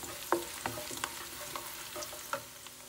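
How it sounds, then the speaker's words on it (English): Four small onions cut into pieces frying in a pan, a low steady sizzle with a few soft scraping stirs spaced through the clip, no voices. "Just cut it into small pieces and fry this also."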